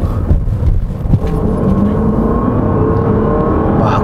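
A Land Rover Range Rover LWB Autobiography luxury SUV engine accelerates hard with a steady, loud, close roar and whirring drive noise that holds throughout without easing off.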